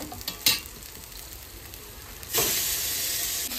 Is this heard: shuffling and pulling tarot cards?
no